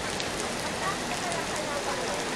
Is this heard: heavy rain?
yes